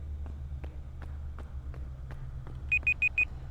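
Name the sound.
timer alarm beeping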